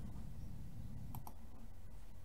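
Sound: computer mouse clicking on a segment

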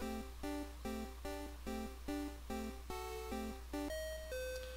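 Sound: ding-dong chime ending safari game in Pokemon Red video game

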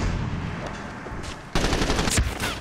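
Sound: gunfire in the video game Medal of Honor Warfighter

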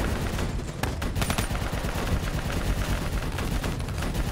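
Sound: gunfire in the video game Call of Duty Black Ops 3

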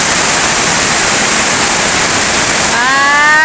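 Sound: heavy rainstorm pouring

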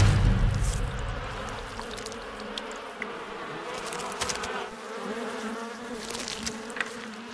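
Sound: bees buzzing at a hive during honey harvesting

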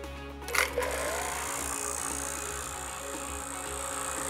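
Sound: HVAC vacuum pump running

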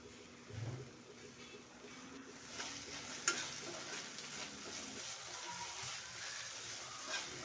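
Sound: frying baby corn manchurian in a pan

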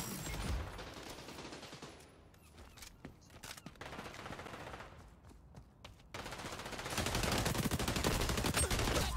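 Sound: gunfire in the video game xDefiant beta

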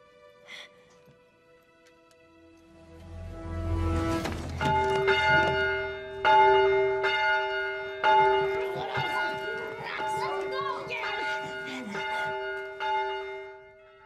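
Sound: bell ringing

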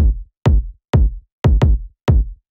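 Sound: punchy kick drum sample

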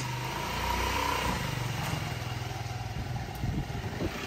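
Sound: motorcycle riding away after being handed over

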